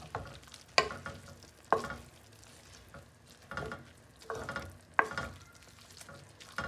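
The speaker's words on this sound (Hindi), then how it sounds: "ये मसाले भी सारे इसमें डाल के और इनको अच्छी तरह मिक्स कर देंगे" Keema with spices is stirred in a cooking pan, a quiet continuous sizzle punctuated by several sharp scrape-and-tap strokes of the spoon at uneven intervals, close, with no talking.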